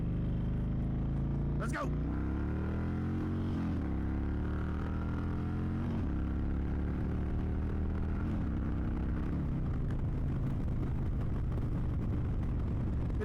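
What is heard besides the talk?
Indian Chieftain motorcycle riding off in first gear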